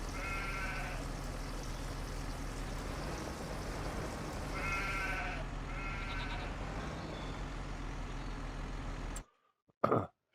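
Sheep bleat several times in the Farming Simulator 25 video game, short wavering calls heard over a constant loud engine-like drone that ends abruptly, followed by a brief muffled knock.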